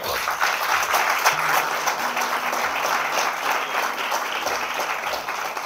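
A church congregation applauds at a Spanish-language service, steady dense clapping filling the room for several seconds, with a few faint voices underneath.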